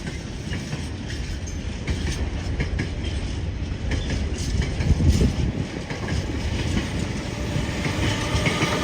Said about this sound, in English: And a Hull Trains Paragon going from Hull to London King's Cross